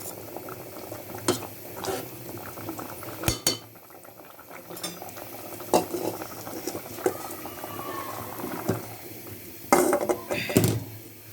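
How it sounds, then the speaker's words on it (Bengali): Garlic and dried chillies tempered in hot oil are poured into cooked greens, giving a continuous crackling sizzle with bubbling, punctuated by sharp clinks of utensils against the pot, close and busy. "এখন আমি শাকটাকে বাগার দিয়ে ফেলবো"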